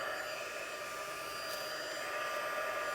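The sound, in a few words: heat tool blowing hot air on candle tissue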